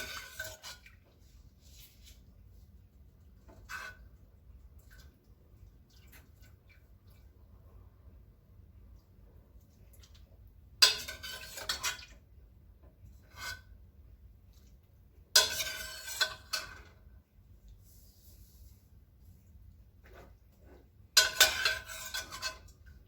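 A spoon scoops vegetables out of a pot of homemade vegetable broth, making three short bursts of metal clinks and wet sloshing spread through a quiet room, close and otherwise near silent.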